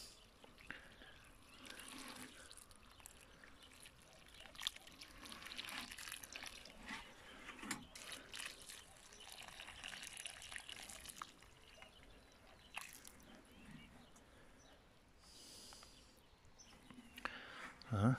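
A mint plant set under an apple tree outdoors being watered with nettle macerate, liquid pouring and trickling softly onto soil over a long stretch, faint and steady with a few louder spots.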